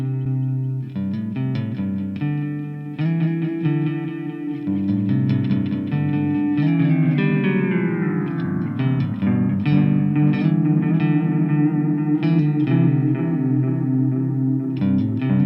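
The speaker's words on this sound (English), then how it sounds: "You can get simple delay effects or huge, crazy delay sounds with this plugin" Bright, distorted electric tones repeat and trail off in echoing delays from a vintage tape delay plugin, the GSI Varispeed Copycat IC400, the repeats smearing and sliding in pitch as they stack up.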